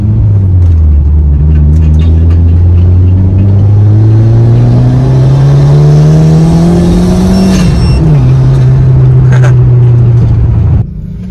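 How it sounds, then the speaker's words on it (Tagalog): A tuned car on a dyno runs flat out with a loud, continuous engine roar that climbs steadily in pitch for several seconds, then drops and holds before cutting off, with a turbo whistle riding over the roar. "pag ihataw natin to, dinig na dinig nyo yung sipol ng turbo"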